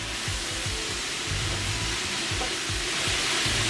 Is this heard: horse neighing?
no